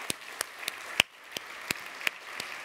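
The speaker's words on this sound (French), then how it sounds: "On peut l'applaudir." Scattered applause from a conference audience at a tech talk, a handful of sharp separate claps at a steady, loose pace rather than a full ovation, moderately near with no voices over it.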